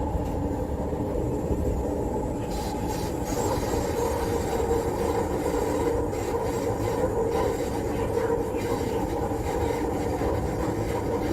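A train's wheels roll steadily over corrugated rail through curves, giving a continuous loud droning roar with a tonal rumble, close and unbroken throughout, with no voices.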